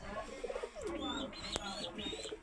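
Soft repeated pigeon coos close by in a small pigeon loft, rising and falling in short rolling phrases, with a faint chirp and a brief click partway through.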